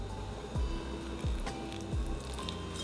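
Water poured onto a potted plant set in tree fern fibre substrate, soaking through to the root ball; a close, wet squishing with three soft gurgling pulses at a steady rhythm over a low background hum.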